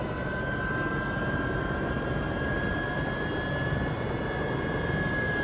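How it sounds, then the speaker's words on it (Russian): A small aircraft takes off, its engine giving a steady, loud, continuous roar with a thin sustained whine riding above it, with no talk. "Вот у нас сейчас будет происходить взлет."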